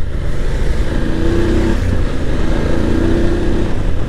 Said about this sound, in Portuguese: Tu sente aquele torque da moto, tu sente a moto empurrar